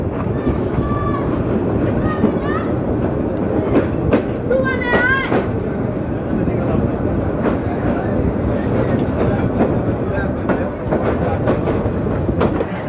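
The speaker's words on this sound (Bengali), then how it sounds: "নারায়ণগঞ্জ কমিউটার ট্রেনটি চাষারা রেল স্টেশন এসে" A Narayanganj commuter train rolls into Chashara railway station on the Dhaka–Narayanganj line, its loud rumble and rhythmic wheel clatter continuous throughout, with brief squealing tones midway.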